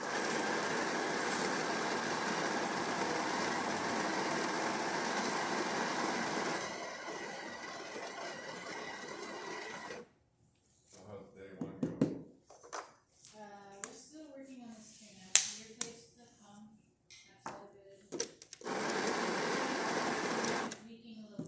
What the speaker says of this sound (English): So let's go ahead and test it. Make a espresso shot on it.